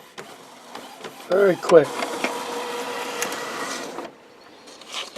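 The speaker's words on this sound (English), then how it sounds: "it'll print out that nozzle check" An Epson WorkForce WF-7710-series wide-format printer with a continuous ink supply system whirs and hums mechanically as it prints a nozzle check, following a brief spoken remark.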